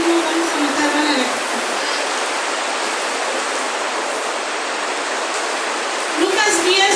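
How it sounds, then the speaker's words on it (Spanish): Steady rain falls during a church service, a dense hiss filling the whole stretch, with a preacher's voice briefly heard at the start and end. "aunque esté lloviendo, no importa"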